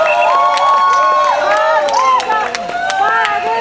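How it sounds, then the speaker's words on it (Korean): A crowd at an election campaign rally cheers and shouts loudly, with scattered clapping mixed into the continuous roar of voices. "우리 박은정 의원, 여러분 오셨는데 박수 한번 보내주세요."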